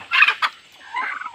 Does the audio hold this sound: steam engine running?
no